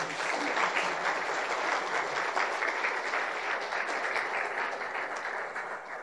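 An audience at a pastor's talk on families applauds the teachers with a sustained, dense round of clapping, loud and steady throughout with no voices over it.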